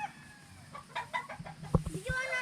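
Gamefowl roosters in a breeding range area give a few clucks and short calls, with quiet voices nearby.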